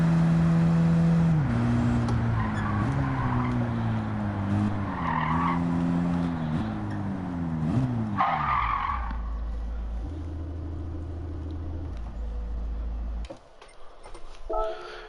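A street car in Gran Turismo 7 revs its engine through rising gear changes, then slides into a long tire squeal and skid before the engine drops to a low rumble.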